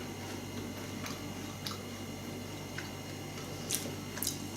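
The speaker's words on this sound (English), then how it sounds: "wow, that's a lot of crunch." Crunchy triple chocolate cookie chewed close to the mouth, a steady stream of soft crunches and squishy bites with a few sharper crackles near the end, fairly quiet and with no talking.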